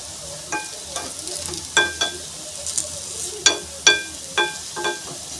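Sweet corn tikki fry in a shallow pan of oil with a soft sizzle. Sharp, irregular ticks and light spatula taps break through close by.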